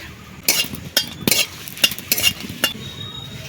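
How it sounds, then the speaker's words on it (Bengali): Dried red chillies frying in a pan, a faint sizzle beneath a handful of sharp metallic scrapes and clinks of a spatula on the pan, spaced irregularly. "এবারে শুকনো লঙ্কা ভাজছি"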